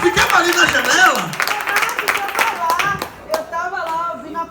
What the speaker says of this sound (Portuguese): Aplauda o Senhor em nome de Jesus.